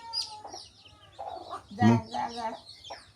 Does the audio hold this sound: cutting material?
no